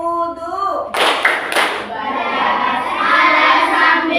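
Children join a rhythmic clapping game that walks through the steps of ablution in a classroom fiqh lesson. A chanted voice leads into sharp claps and thumps, followed by lively group chanting and shouting over continued clapping.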